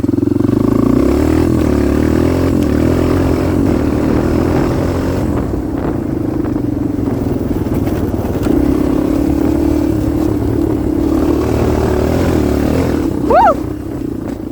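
A Kawasaki KLX 230R dirt bike holds a wheelie in 5th gear, its engine droning loud and steady with a low, pulsing tone throughout, rising briefly in pitch near the end.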